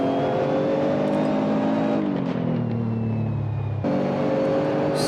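Nissan GT-R Nismo GT3 race car with a 3.8-litre twin-turbo V6 at Laguna Seca, engine droning loud and close, pitch sagging under deceleration before a sharp upshift-like jump back to high revs.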